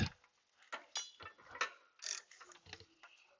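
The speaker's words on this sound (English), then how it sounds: "swivel head ratchet and a deep well socket" Long half-inch swivel head ratchet with a deep well 17 mm socket working on a starter bolt of a 2005 Honda Element, giving a series of close, uneven mechanical clicks and clunks, with no talk.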